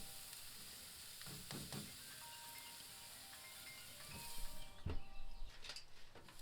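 Bone-in beef ribeye steaks sizzling over a charcoal grill: a steady, close hiss of fat crackling, with birds chirping faintly outdoors and a brief louder flare of sizzle near the end.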